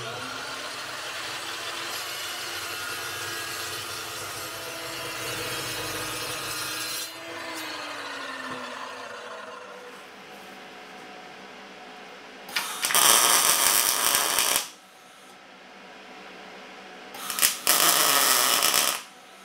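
A power saw fitted with a 14-inch carbide-tipped blade cuts metal bilge keel parts for a boat in two loud, harsh bursts, following a long stretch of steady, quieter machine noise.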